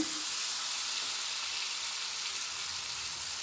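Onions and coriander powder sauté in a pan for an egg gravy, a soft, steady frying hiss that holds at an even level without pauses.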